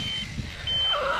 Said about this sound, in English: hopefully that beeping isn't too unbearably loud for you guys